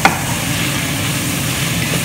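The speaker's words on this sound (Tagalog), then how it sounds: "Gisa pa natin ng konti guys para mas masarap." Ground lamb sautéing in a hot pan, a dense constant sizzle with the brief scrape of a stirring utensil at the start, close and steady with no speech.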